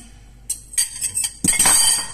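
Utensil clinking and scraping against a saucepan while an egg mixture is stirred, a few separate metallic taps building into a brisk, continuous clatter near the end.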